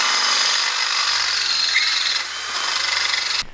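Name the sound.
power drill drilling out stainless steel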